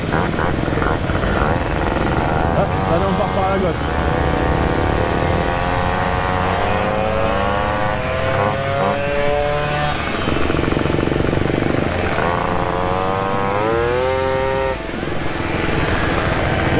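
A crowd of mopeds setting off together on a group ride at a moped festival in Graulhet, engines buzzing and revving loudly and continuously, with rising pitch sweeps as bikes pass, and someone talking over the din.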